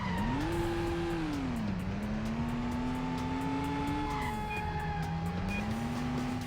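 A car in the video game Stuntman performs a 180 handbrake turn, its engine roaring steadily and rising and falling in pitch, with a thin tire screech running under the engine throughout.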